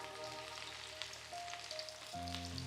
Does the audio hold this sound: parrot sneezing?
no